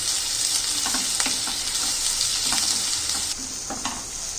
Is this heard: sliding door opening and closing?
no